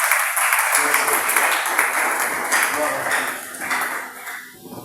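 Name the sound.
congregation applauding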